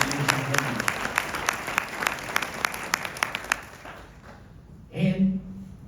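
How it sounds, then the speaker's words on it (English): Audience applause at a Montgomery County judge candidate forum, a steady patter of clapping with a few sharp individual claps, fading out near the end before a brief voice speaks. "let's give him a round of applause for what he has done"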